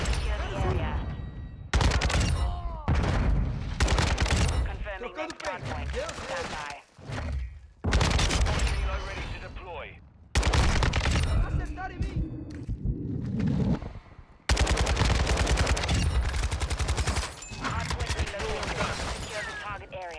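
Rapid, loud bursts of gunfire from Call of Duty Modern Warfare II, dense volleys and single shots in dense clusters separated by brief pauses, with a player talking over the action.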